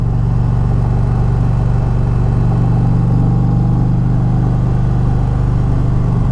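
A 2026 Indian Pursuit Dark Horse touring motorcycle drones steadily through turns, its engine a loud, continuous low rumble mixed with heavy wind rush, with no speech.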